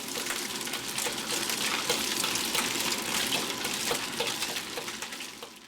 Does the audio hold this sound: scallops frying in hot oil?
yes